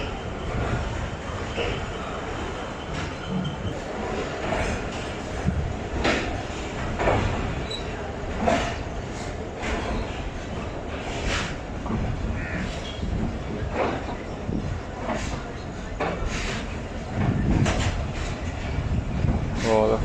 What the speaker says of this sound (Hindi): 39 अब Jafar express Khanewal junction railway station से रवाना हो रही है।